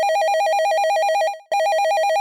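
A telephone rings loudly with a steady warbling electronic trill, cutting off briefly partway before resuming; no voices accompany it.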